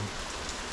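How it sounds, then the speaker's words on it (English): Steady, dense hiss of pouring rain, close and continuous through a brief moment, with no voices. "It's raining, it's pouring."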